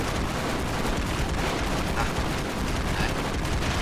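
Continuous heavy gunfire and explosions in the side-scrolling action game The Expendabros, a loud, dense, unbroken wash of shots and blasts.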